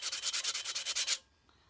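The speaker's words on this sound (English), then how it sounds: "I'm not gonna worry about sanding this one too much. I think I might run over it just a little" Rapid back-and-forth sanding strokes on a glitter tumbler, about a dozen quick rhythmic passes, loud and close, then stopping abruptly into near silence.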